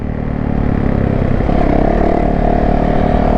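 A 2020 Yamaha YZ450 dirt bike on a test ride gives off a loud, continuous engine drone close up, with the pitch rising slightly as the bike pulls ahead.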